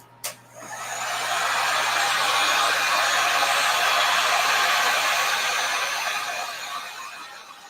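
A hair dryer blows steadily on a floral painting to dry the paint, a loud close whoosh that starts after a brief click and holds for several seconds before easing slightly.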